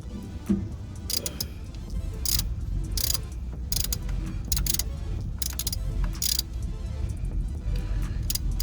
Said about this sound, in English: We'll go ahead and tighten this bad boy down.